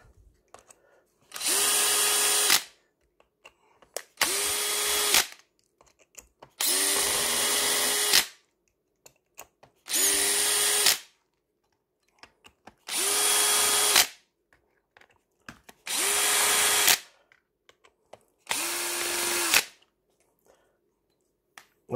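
Power drill backing long screws out of the front of a Funtek STX RC car, seven bursts of whirring roughly a second long each with quiet gaps between, close and clear.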